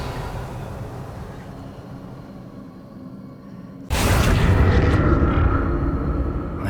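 A magic spell effect from Hogwarts Legacy, the Revelio reveal, bursts in with a sudden bright whooshing swell over a low rumble, then holds as a loud shimmering wash.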